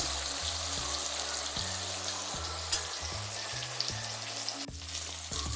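Eggplant slices frying in oil for an eggplant roast, a continuous close crackling sizzle with soft bubbling pops throughout, fairly quiet and with no voices over it.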